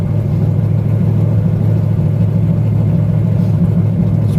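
A cold truck or tractor engine runs steadily after a cold start, a low continuous rumble held with light throttle so it doesn't stall, close and loud throughout with no speech.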